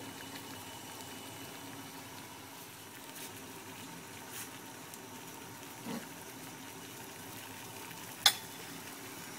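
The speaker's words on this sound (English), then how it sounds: "So 40 minutes of boiling later, the water is pretty much clear." A pot of water boiling poisonous mushrooms on the stove gives a low, steady bubbling hiss, faint and continuous, with a few soft knocks and one sharp clink near the end.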